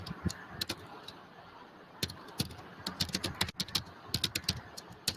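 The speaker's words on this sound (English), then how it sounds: "typing." Rapid, uneven clicks of typing on a computer keyboard, close and clear, with bursts of keystrokes separated by short pauses over a low background hiss.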